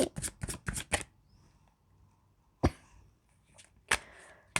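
Tarot cards being shuffled up close: a quick burst of four or five riffling bursts, then a pause and a couple of isolated sharp card snaps, with no talking.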